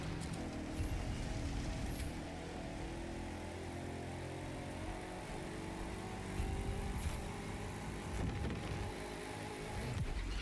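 Racing car engine with nitrous boost in The Crew 2, a sustained loud droning roar with steady harmonic whine and brief surges, continuous throughout with no talking.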